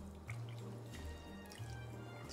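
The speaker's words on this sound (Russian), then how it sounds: "Воду наливаем в эту форму." Hot water, warmed to about 80 degrees, is poured into a baking form for a chicken pâté, giving faint trickling and dripping sounds with a low kitchen hum underneath.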